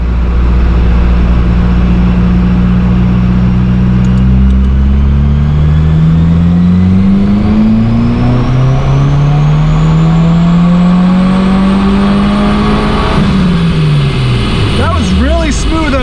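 A 2023 Subaru WRX with a stage 2 tune, ETS J-pipe and 99-octane fuel accelerates hard through several gears, its engine note climbing loudly with each pull, followed by a shift and a turbo flutter near the end.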